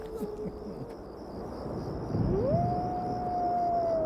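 A werewolf in a movie lets out a single long howl that rises then holds steady, drenched in reverb over a low rumbling background, heard faintly alone.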